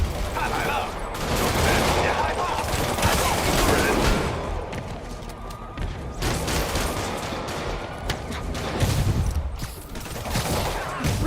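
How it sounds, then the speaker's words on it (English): Video game gunfire in Marvel's Spider-Man crackles in loud repeated volleys and bursts across the scene, with voices talking among the shots. "Reports of multiple shots fired."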